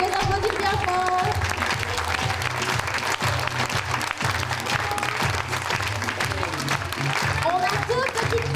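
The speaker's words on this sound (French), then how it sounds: "On peut les applaudir bien fort." A theatre audience at a stage show claps loudly and continuously in a dense, sustained burst of applause, with scattered voices and cheers mixed in.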